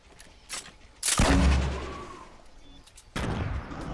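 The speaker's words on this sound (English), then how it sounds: "Yo, I threw grenades." Grenades explode in Fortnite, a heavy boom bursting out and rumbling away, then a second sharp blast hitting a couple of seconds later, with fainter gunfire-like pops before them.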